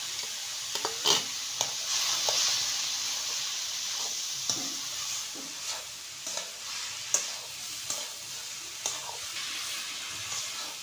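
Ground ginger and cumin fry with banana flower and prawns in a pan, a steady hissing sizzle punctuated by repeated stirring scrapes and taps, close and uninterrupted by speech.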